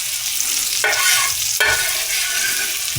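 Onions, with hot pickled peppers nearby, fry on a hot griddle for cheesesteak, giving a loud, continuous close-up sizzle broken by two scraping stirs of a spatula.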